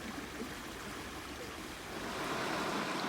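Water running through a designed stream feature at the Letterman Digital Arts Center in San Francisco, a steady broadband rush and trickle that swells slightly louder toward the end, with no voices.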